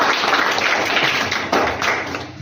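An audience at a children's general-knowledge quiz contest claps steadily and loudly throughout, a dense burst of applause with no speech.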